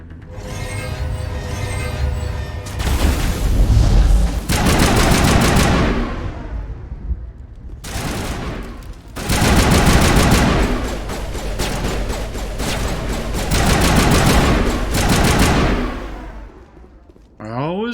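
Sustained assault rifle fire from the video game Mass Effect rattles out in long, loud automatic bursts separated by short pauses, with a voice talking at times.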